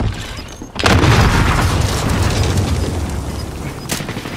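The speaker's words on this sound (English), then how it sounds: "Under fire here." Loud gunfire and booming blasts in the Warzone video game, starting with a sudden heavy burst then sustained rattling fire and rumble, with a sharp shot near the end.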